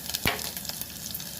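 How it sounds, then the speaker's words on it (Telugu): Cumin seeds, curry leaves and dried red chillies dropped into hot oil for tempering in a home kitchen, giving a sharp burst of sizzling followed by a softer crackling fry, with no talking. "మరిగిన తర్వాత పోపు వేసుకుందామండి"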